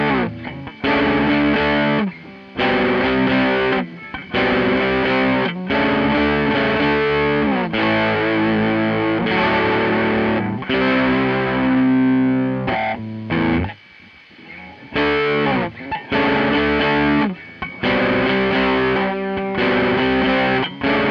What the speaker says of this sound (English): Put the distortion up.